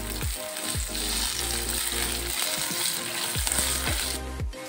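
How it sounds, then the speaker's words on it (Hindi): Onions and capsicum fry in a pan for chilli paneer, a steady close sizzle with repeated stirring and clinks of a spoon against the metal throughout. "हम 2 मिनट प्याज को फ्राई करेंगे"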